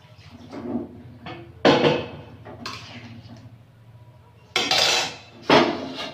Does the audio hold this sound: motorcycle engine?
no